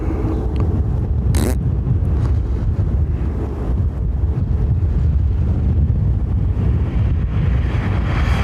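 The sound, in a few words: wind blowing at an airport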